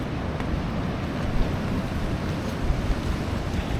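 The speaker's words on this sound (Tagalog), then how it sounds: "Ang ganda ng alon dito." Ocean surf rolling in at Siargao, a continuous broad roar of breaking waves with wind buffeting the microphone, steady and fairly loud with no voices.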